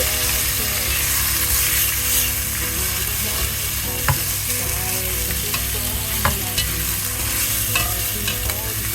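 Potatoes fry and caramelize in a hot pan, sizzling steadily while a utensil stirs and turns them with occasional scraping clicks.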